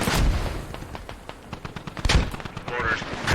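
Mortar fire in a war video game booms and crackles in quick bursts over a constant battle din, with a loud blast near the two-second mark and a voice under the gunfire.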